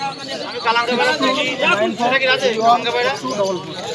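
Pigeons coo and flutter at a busy bird market, a dense chorus of nearby calls heard under continuous talk.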